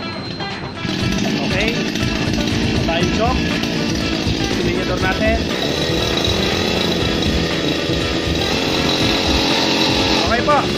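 A TD40 heavy duty grass cutter engine catches and runs, a loud buzzing two-stroke whine that kicks in after a brief pause and holds steady with slight revving, with someone talking over it.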